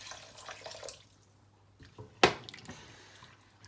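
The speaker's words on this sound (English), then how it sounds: "I'm adding half a pint of water to it." Water is poured into a pot of simmering pepper water, a spiced broth, making one short, sharp splash midway, with faint kitchen clatter before and after.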